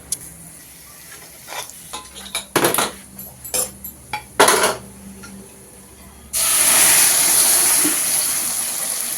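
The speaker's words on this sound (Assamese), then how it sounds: "এইখিনি আৰু অলপ পকক, ৰঙচুৱাকৈ ভাজ খাওক।" Food frying in a pan: scattered clanks and scrapes of a utensil against cookware, then a loud, steady sizzling hiss that takes over for the last few seconds, close up.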